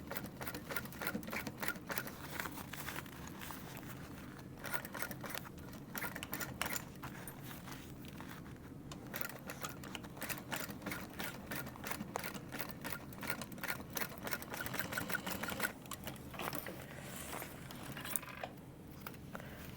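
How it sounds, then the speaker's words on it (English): A sewing machine runs steadily, top stitching through a small bag's strap connector, giving a close, continuous mechanical whir with a fast needle rhythm that carries on for the whole stretch without pause. "we're going to top stitch through this and add a rivet over your strap connector"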